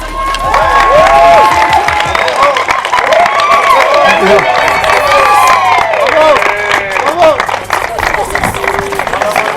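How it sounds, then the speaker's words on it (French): A French audience claps and cheers at a live event, a loud continuous crowd roar with shouts and voices over it, filling the whole stretch. "Et je pense que vous pouvez vous applaudir encore une fois"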